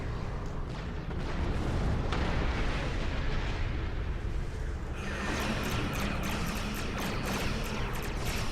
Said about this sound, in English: Destroy the dreadnought.